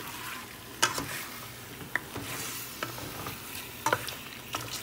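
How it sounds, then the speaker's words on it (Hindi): Chicken frying with garlic and ginger paste over a medium flame, a steady close sizzle broken by sharp clinks and scrapes of a spoon stirring against the pan. "चिकन डाल के आप तकरीबन 15 मिनट के लिए इसको फ्राई करें।"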